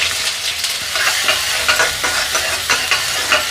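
Chopped onion and asafoetida sizzle loudly in hot oil with cumin, a close, steady frying hiss with stirring scrapes pulsing through it.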